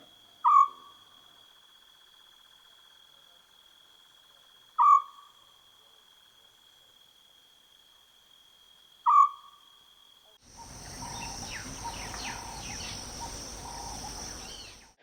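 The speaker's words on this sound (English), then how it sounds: "by the fire we could hear the Scops owl calling" Three soft, evenly spaced single hoots of a scops owl ring out in a quiet night at a campsite in Botswana, followed by a rising wash of insect-like chirring.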